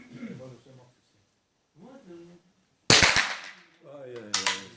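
A sharp gunshot at a shooting competition cracks out loud and close, followed by a second, fainter report a moment later, with someone talking before and after.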